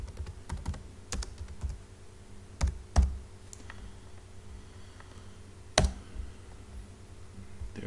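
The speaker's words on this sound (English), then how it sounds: "within there we'll type in class dojo" Typing on a computer keyboard to enter a web address, soft scattered keystrokes with a few louder key clicks over a steady room hum.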